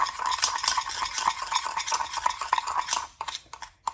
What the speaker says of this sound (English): We're gonna put some in there and then just stir that up.